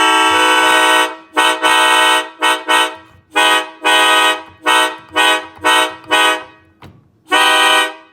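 K5LA train horn chord with a sharpened third, a series of loud, blaring multi-tone blasts of varying length separated by short gaps, close and with no talking.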